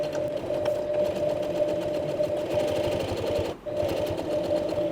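A hand-cranked sewing machine stitches slowly and steadily, its needle mechanism ticking in an even, close mechanical rhythm with a sustained hum and one brief pause near the end.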